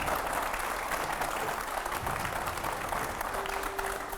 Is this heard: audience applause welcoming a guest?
yes